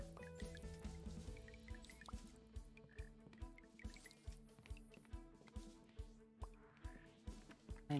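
Water drips and trickles steadily onto plants in a rhythmic series of soft splashes, close and fairly quiet, with no talk.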